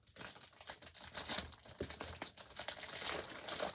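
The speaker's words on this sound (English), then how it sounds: "sorry for the crinkling" Plastic packaging crinkles and crackles while boxes holding a collection of small figures are unwrapped, a continuous close rustle with sharper tearing bursts and no talking.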